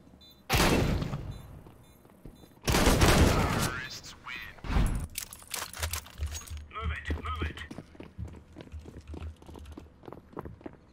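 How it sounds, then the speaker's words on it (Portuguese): Two sharp bursts of rapid gunfire in Counter-Strike: Global Offensive ring out, followed by scattered clicks and shuffling sounds under a low background hum. "Vou ficar dando uns tiros pra eles avançar"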